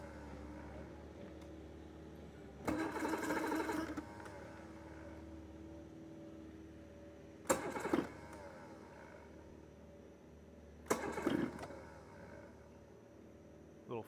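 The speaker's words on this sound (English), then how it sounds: "All right, let's fire it up and see what it does." An outboard motor is cranked in three separate short bursts, each starting attempt sputtering briefly and dying away without catching, heard at moderate distance over quiet background.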